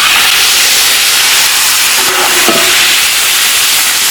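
Bamboo shoots and fatty cured pork boil hard over high heat in a pot, giving a loud, steady broadband roar and hiss that runs continuously throughout, with no voices.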